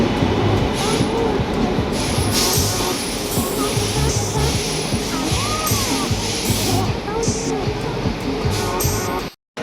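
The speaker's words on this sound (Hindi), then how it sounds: "तो अब बस प्लेटफॉर्म में आ ही गई है ट्रेन" A train pulls into a platform on a rail journey from Bhutan toward Kolkata, with a loud steady rumble of wheels, rhythmic clatter and squeal, and voices in the background.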